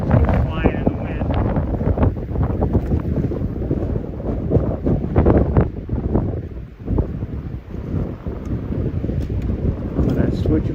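Strong gusts buffet the microphone on a hiking trail by a lake, a loud rumbling roar that surges and dips unevenly, with a voice speaking underneath.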